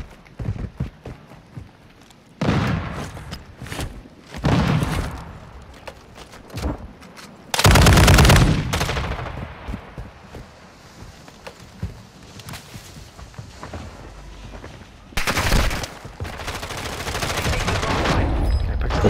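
Video game gunfire crackles in loud, separated bursts and rapid volleys, dropping to quieter stretches between the salvos.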